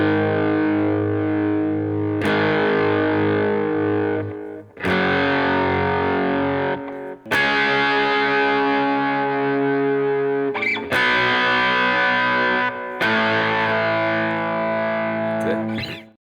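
Distorted electric guitar with effects plays a riff, a series of sustained chords in several phrases separated by short gaps, loud and heavily processed throughout.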